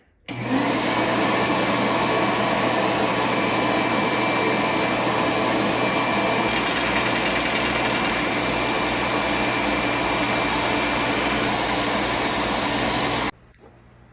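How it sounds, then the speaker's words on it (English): An electric sander working wooden parts for a toy backhoe loader, a loud steady whirring hum that starts abruptly, runs continuously for about thirteen seconds close by, and cuts off sharply. "Oh, back to the sander."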